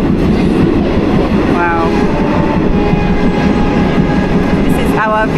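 Uganda Railways passenger train rolling along the tracks, a loud continuous rumble heard from on board with brief squeals, and a voice exclaiming once.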